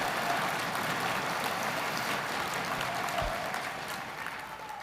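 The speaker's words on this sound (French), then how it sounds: "On les applaudit" A crowd at a party congress claps in sustained, dense applause, steady and loud before easing slightly toward the end.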